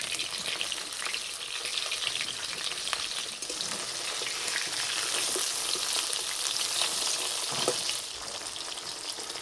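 Fresh pond bata fish fry in oil in a pan, a dense, continuous sizzle with fine popping spatter that stays loud and close throughout.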